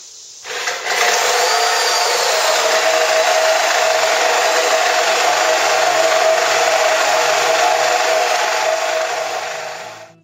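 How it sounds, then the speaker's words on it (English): A power drill with a 1¼ inch spade bit boring through wood, a steady high whining grind that starts abruptly and holds loud and constant for about nine seconds before trailing off. "I want to take this drill with a 1¼ inch spade drill bit. And I want to drill this out"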